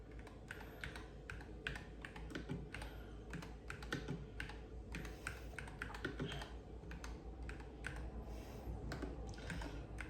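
Steady, fast typing on a computer keyboard, a close run of light plastic key clicks over a constant low hum, with no voices.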